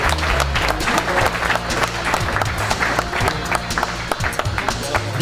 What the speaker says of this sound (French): J'aimerais qu'on applaudisse une nouvelle fois toutes ces médailles de bronze, d'argent et d'or